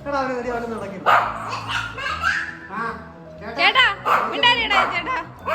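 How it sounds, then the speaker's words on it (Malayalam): A dog barks several times close by, its barks mixed with voices and lively vocal sounds. "കുറെ നേരമായിട്ട് കുരയ്ക്കല്ലേ"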